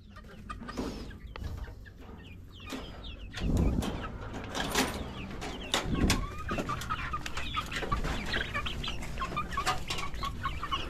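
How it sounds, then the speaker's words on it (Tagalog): Chickens cluck softly in the background amid outdoor rustling and a few louder knocks. "yung mga manok na yan oh"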